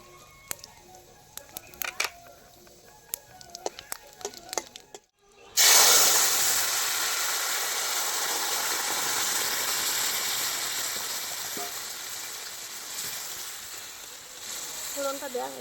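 Dry chili, cumin, cardamom and clove dropped into hot oil for tempering, setting off a sudden loud, steady sizzle that fades slowly, preceded by faint clicks and handling noises.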